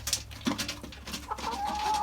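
A few chickens cluck in short, scattered notes close by, with a brief higher chirp near the end.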